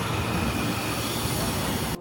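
Shinkansen bullet train in Japan, a loud, steady rumbling roar of the rolling carriages heard from close by, with a faint rhythmic clatter and no voices.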